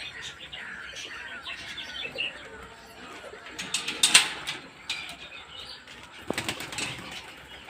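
Pigeons flap their wings and coo and chirp while being scattered wheat and paddy grain, with bursts of wing-beats around the middle and end over a soft, continuous flock murmur.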